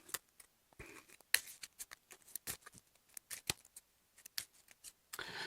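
Cards for the Mage Knight board game being shuffled by hand, producing quiet, close riffling bursts and snaps in an uneven rhythm, with short pauses between them.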